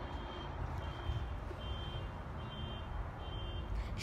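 A vehicle's reversing alarm beeps in a steady repeating pattern a short distance away, over a low background rumble.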